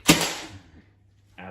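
A single sharp nail-gun shot drives a nail into thin wooden strips during mobile home living room repairs. It is loud and close, with a quick decaying tail, then near quiet before a low hum starts.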